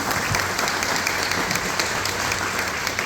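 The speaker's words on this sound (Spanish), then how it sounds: "Un fuerte aplauso" Steady audience applause fills a hall at an education colloquium in San Juan Nepomuceno, welcoming Professor David Galeano, a dense continuous wash of many hands clapping at even loudness throughout.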